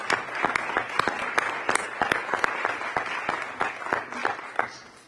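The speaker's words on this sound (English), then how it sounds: "So if we can just give everyone a round of applause," An audience at a school board of education meeting applauds, with many hands clapping steadily in a moderately loud, continuous patter that thins out toward the end.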